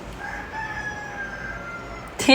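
A rooster crows at length, a drawn-out tonal call, with a short burst of louder clucking at the very end.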